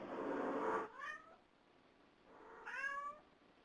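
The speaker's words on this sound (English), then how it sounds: "This is just a meow." A recorded cat gives two clear meows, each a rising-then-falling call, separated by a brief pause, played back faintly over a hiss of background noise.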